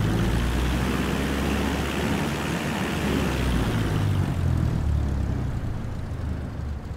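Cessna 172 propeller engine in a flight simulator game, a steady loud droning hum that holds constant throughout with no speech.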